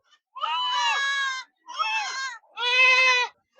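Goats bleat three times in a row at a goat and sheep market, loud, drawn-out wavering cries with short gaps between them.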